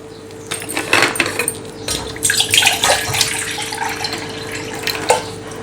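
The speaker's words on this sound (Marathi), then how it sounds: "एका पातेल्यामध्ये आपण थंड पाणी काढून घेऊया" Cold water is poured into a metal pot for a mint-lemon drink, splashing and gurgling unevenly at close range, with a few light clinks of the vessel.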